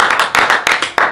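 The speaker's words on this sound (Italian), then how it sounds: "Un applauso a noi comunque" A small group of people claps hands at home during a yoga challenge, loud close claps in uneven bursts, fading and rising again several times.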